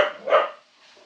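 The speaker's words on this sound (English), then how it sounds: "Cooking with barking dogs." A single dog barks twice in quick succession, loud and close, then a fainter trailing sound fades out.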